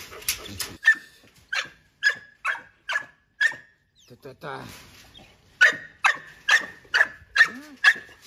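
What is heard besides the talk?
four-month-old Canary Mastiff puppies barking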